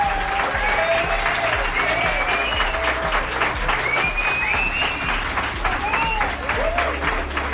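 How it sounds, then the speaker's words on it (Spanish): Crowd at a talk gives sustained applause, dense continuous clapping with scattered cheers and voices mixed in, steady and fairly loud throughout. "por favor os pido un aplauso"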